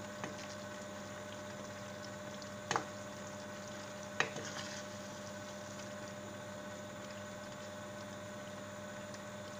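Water with pechay and sardines in tomato sauce simmers gently in a pan, a steady low bubbling hiss with a couple of brief clinks from a utensil, no voices.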